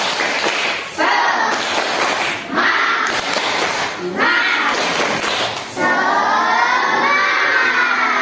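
A group of children claps together in short rhythmic bursts, with shouting and chanting voices mixed in and brief pauses between rounds.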